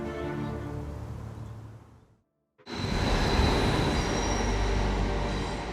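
A train on a mountain railway in Norway rumbles along with wheels rolling on the rails, briefly cutting out before returning louder with a steady roar and squealing wheels.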